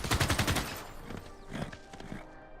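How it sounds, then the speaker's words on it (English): In the strategy game Civilization 6, a gunpowder-era bombardment hits a Roman unit as a loud rapid volley of cracking gunfire blasts, followed by scattered fainter shots and clatter that trail off. "we're going to use Dortmund to bombard this Roman dude so that we can use our cannon to get the kill"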